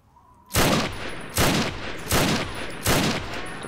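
Gunfire from Fallout 3 while fighting raiders: four heavy, booming shots at roughly even intervals, each followed by a ringing decay, close and loud with no talk.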